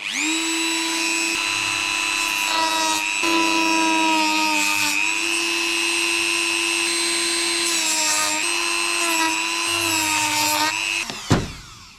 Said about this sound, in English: Let's open it with the Dremel.